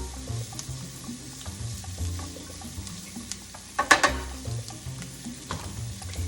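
Salted asparagus sautés in a pan with a continuous soft sizzle and occasional stirring clatter, including a sharper clink of utensil against pan just before the middle.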